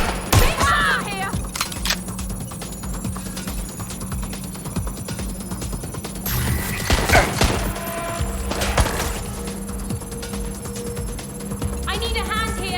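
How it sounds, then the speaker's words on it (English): Gunfire in the video game Watch Dogs: Legion, with a cluster of sharp shots in the middle over a steady game ambience, and a voice talking near the start and end. "Shots fired!"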